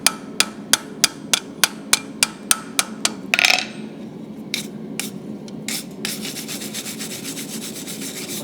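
Light, evenly spaced hammer taps on metal on an anvil while forging a leaf ring out one after another, followed by a brief scraping and a few scattered knocks.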